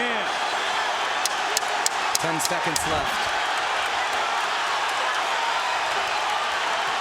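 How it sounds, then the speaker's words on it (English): Boxing arena crowd in a roaring, steady din during the final round of a Pacquiao vs Marquez fight, with a few sharp claps and shouts rising out of the noise while a commentator talks over it. "Listen to the crowd, folks"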